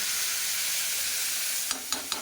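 Water poured into frying vegetables in a pan, a loud steady hiss of sizzling and steam, then a few short clinks of stirring near the end.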